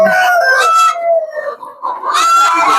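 Loud, close hen calls on a free-range desi poultry farm, a drawn-out cackling squawk, a short pause with quieter clucks, then another strident call.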